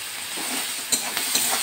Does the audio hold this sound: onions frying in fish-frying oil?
yes